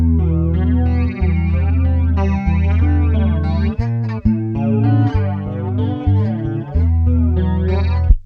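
Guitar played through a Made-in-Japan BOSS BF-2 flanger pedal, chords ringing with a sweeping, swirling jet-like modulation and some distortion, strummed in a steady pattern with no talking.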